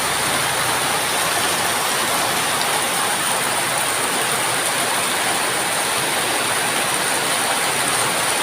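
Steady, dense afternoon rainfall in the Philippine countryside at Cansilyan hisses evenly throughout, a continuous wash of drops with no voices or breaks.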